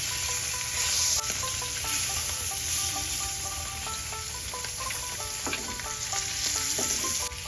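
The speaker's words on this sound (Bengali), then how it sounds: "এক পাশ হয়ে গেলে উল্টিয়ে অপর পাশও ভালো করে ভেজে নেব" Rohu fish turned over and frying on its second side in hot oil, producing a continuous loud sizzle with crackling spits and occasional stirring scrapes, heard up close without any talking.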